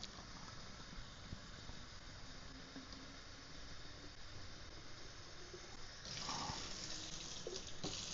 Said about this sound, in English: Fill the water bottle to the line, so we can fill it to the between the min and the max